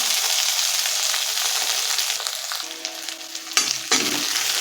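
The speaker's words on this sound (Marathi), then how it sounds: "थोडीशी परतून घ्यायची आहे कोथिंबीर तेलामध्ये" Chopped coriander sautéing in hot oil for a sprouted moth bean usal, a steady broadband sizzle running throughout with a couple of brief stirring clatters near the end, no talking.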